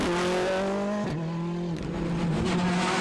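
A rally car spinning on a stage of the Irish National Rally Championship Circuit of Munster, with its engine note dropping and shifting as it slides and revs, fairly close and loud with no talk.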